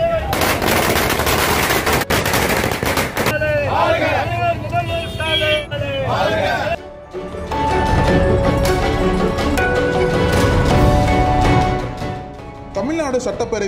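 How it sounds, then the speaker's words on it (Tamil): Firecrackers burst in rapid, crackling strings during a street celebration of a Tamil Nadu budget announcement, loud and close, with crowd chatter and shouting mixed in. "ஆங்காங்கே பட்டாசுகள் வெடித்து கொண்டாடும் வீடியோ காட்சிகள் சோசியல் மீடியாவில் வைரலாகி வருகிறது."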